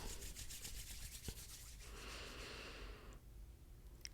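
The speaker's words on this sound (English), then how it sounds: "Rub your palms together, create some heat." Palms rubbing together briskly during a yoga class, a soft continuous dry friction swish lasting a few seconds, close and quiet, with no talking.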